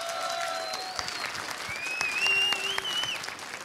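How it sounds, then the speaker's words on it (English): Steady crowd applause and cheering in a CS:GO esports tournament arena, sustained at a constant level throughout, with a few whistles rising above the clapping. "Guys, a big round of applause again for the Ninjas in Pajamas."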